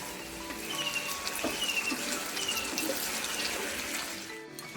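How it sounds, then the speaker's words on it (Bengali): Water runs steadily from a tap onto a stone grinding slab (shil) as it is washed in a home kitchen, a continuous splashing hiss lasting throughout at close range, with no voices. "শিলটাকে ধুয়ে রেখে দিলাম"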